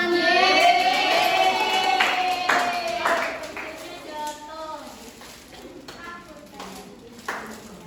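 Children clap together in a classroom, with a cluster of claps heard alongside voices talking and calling out over the sound, then fading to a few scattered claps near the end.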